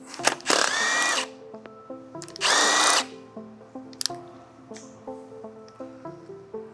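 A power driver with an 8mm socket spins out clutch perch clamp screws, two loud whirring bursts followed by faint clicks and light tapping of parts, close by with no voices.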